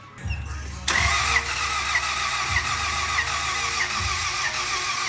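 A boosted Honda Civic EK hatchback engine with a weak battery cranks and catches with a sudden roar, then runs roughly at a steady idle with uneven pulses, close by and loud.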